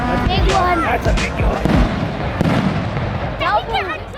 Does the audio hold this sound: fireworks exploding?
yes